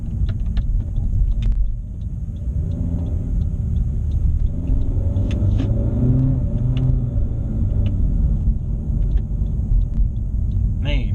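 A 2017 Honda Civic hatchback engine rumbles steadily and builds as the car accelerates, heard from inside with a low droning tone and light road noise.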